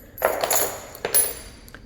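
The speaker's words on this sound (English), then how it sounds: "I'm going to leave my keys up here." Keys are set down in a house before heading to the basement, giving two bright metallic jingles and clatters about a second apart, close and fairly loud.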